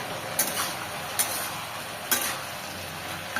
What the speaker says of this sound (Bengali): আলুটা ভাজতে রেখেছি